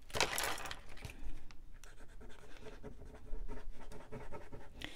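Thin paper tab of a handmade cupcake display box being folded back, a dry crinkling scrape up front followed by a few soft creasing rustles, close and fairly quiet with no voices.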